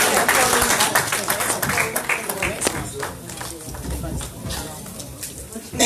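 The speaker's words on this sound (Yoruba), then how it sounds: "Ẹ pàtẹ́wọ́ fún Jésù." Congregation applauding during a Yoruba Christian fellowship Sunday service, dense sustained clapping from a crowd that stays loud throughout and eases slightly toward the end, with voices mixed in.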